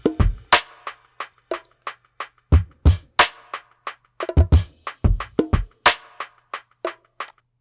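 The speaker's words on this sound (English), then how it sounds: "I have this sample loop, and it's a 90 BPM sample loop." A 90 BPM drum loop sample plays in Bitwig Studio: a steady groove of punchy kicks, snappy snares and tight hi-hats, loud and close with no voices over it.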